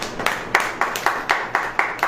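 Rhythmic clapping at a religious sermon gathering, evenly spaced claps roughly four per second, moderately loud and regular, like a small group keeping time together.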